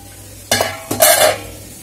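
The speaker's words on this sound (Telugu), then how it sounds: "ఇప్పుడు మొత్తం కలిసే విధంగా కలుపుకుందాం కదండి" An amaranth leaf fry is stirred in a hot pan with two quick scraping strokes, each followed by a brief sizzle, close and loud with no voices.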